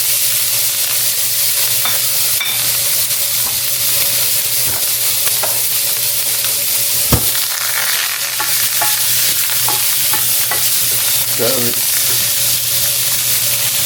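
Chicken breast fries loudly in a pan with a constant, close crackling sizzle and occasional sharper pops and stirring scrapes along the way.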